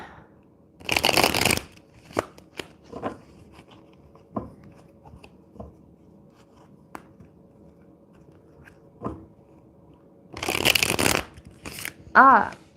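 Tarot cards being shuffled close by: two bursts of riffling at the start and near the end, with scattered taps and soft card handling between, no talking.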